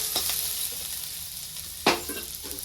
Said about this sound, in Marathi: आणि आता ह्यातच मी कांदा टाकून घेते कांदा पण आपल्याला लाल होऊ द्यायचा